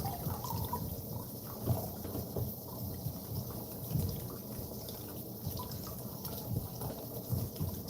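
Vegetables rinsed and swished in a basin of water in a home kitchen, a steady wet splashing and trickling that runs the whole time with soft sloshes now and then, close and moderately loud, no voices.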